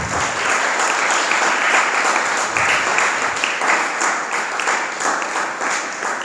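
A congregation at a youth fellowship gathering breaks into sustained applause, a full, even wash of many hands clapping close and loud for several seconds with no talk.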